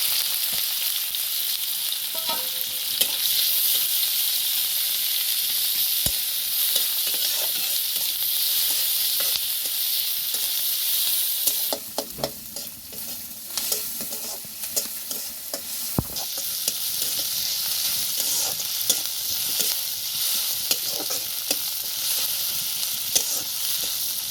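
Onion and garlic frying in a pan for a crab curry, with a steady, dense sizzle and occasional stirring scrapes throughout, close and fairly loud, no talking.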